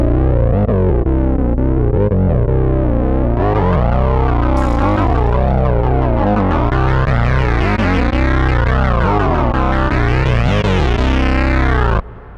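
A heavily distorted synth bass plays a sustained, gliding line with a thick, reverberant tail, loud and unbroken until it cuts off abruptly near the end.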